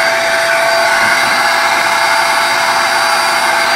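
TACKLIFE 800W 5-gallon ash vacuum cleaner sucking up debris: a loud, steady, high-pitched motor roar and airflow rush throughout, close by and unbroken.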